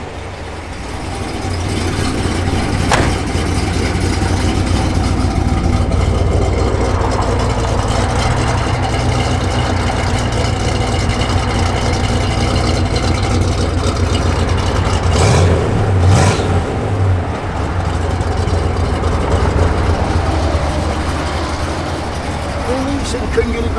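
A 1970 Pontiac GTO Judge engine rumbles steadily at close range for the whole stretch, a deep continuous idle with a brief swell partway through, as a person talks over it.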